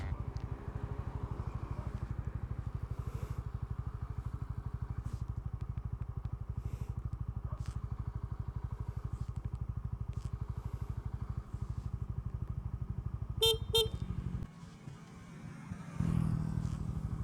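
A Honda Winner X motorcycle engine drones steadily while riding on Marilaque Highway, close and continuous, with a brief clatter near the end before the engine note shifts.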